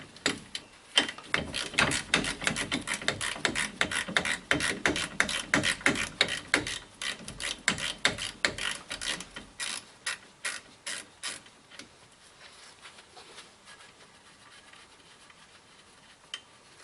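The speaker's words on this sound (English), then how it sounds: "I'm going to take the nut off and the bottom of the ball joint" A ratchet wrench removes the nut from the ball joint of a Chevy 2500HD upper control arm, giving a fast steady run of close clicking strokes that slows and thins out, then fades into quiet rubbing.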